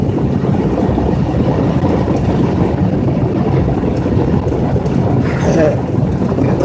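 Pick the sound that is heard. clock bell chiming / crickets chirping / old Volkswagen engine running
old Volkswagen engine running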